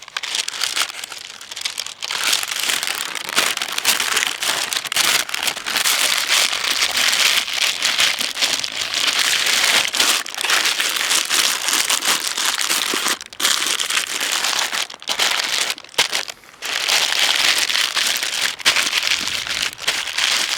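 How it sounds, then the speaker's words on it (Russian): Steady crinkling and rustling of paper, close and continuous, with brief pauses as sheets are folded and pressed around hot-smoked ducks. "Я хочу их завернуть в бумагу."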